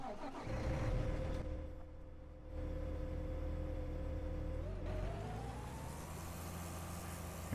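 In Farming Simulator 19, a Case IH Steiger Quadtrac tractor pulling a cultivator gives a low, steady engine drone with a tonal hum that rises in pitch near the end. The sound is faint and there is no talk.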